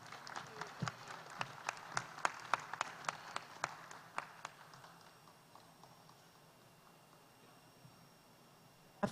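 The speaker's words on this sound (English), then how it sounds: "Please give her a big applause." An audience at a gastronomy tourism forum claps together in lively, dense applause that peaks early and then thins out and fades, heard from across a hall.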